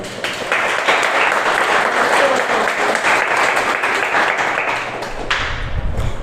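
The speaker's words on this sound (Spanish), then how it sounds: "Denle un fuerte aplauso al Señor." A church congregation breaks into loud, sustained applause, a dense wash of many hands clapping together that holds strong before tapering slightly at the end.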